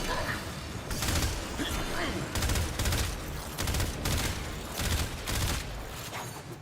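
Warframe gunfire comes in repeated loud bursts of rapid fire, roughly one every second, under a dense game mix with some voice in the background.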